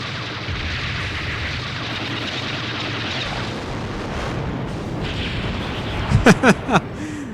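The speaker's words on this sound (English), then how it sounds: "Apparently that became an atomic bomb." The Divine Dragon Hit attack in The Legend of Dragoon sets off a long, roaring explosion like an atomic blast. A sustained wall of rumbling noise ends with a few sharp, sweeping bursts.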